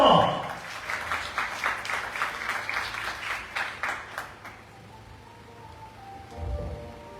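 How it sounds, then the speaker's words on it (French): A graduation audience applauds at a vocational school ceremony, with loud clapping that starts quickly, stays full and dense, then fades to scattered claps. Faint background noise follows as the applause dies away. "je vous demande de les applaudir chaudement"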